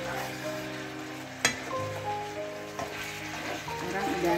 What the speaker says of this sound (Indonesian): Aduk lagi dulu.